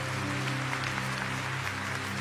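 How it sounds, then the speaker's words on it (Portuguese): Audience applause fills a church Christmas musical performance, a steady dense patter of clapping hands held at an even level throughout the moment, with no speech over it. "Dá um aplauso a Jesus."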